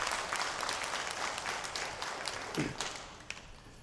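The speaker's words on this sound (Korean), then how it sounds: "오늘 귀한 찬양으로 섬겨주신 우리 은평 찬양단 박수로 격려하겠습니다." A church congregation claps to encourage the Eunpyeong worship team after their praise songs, the applause faint and distant, tapering off gradually.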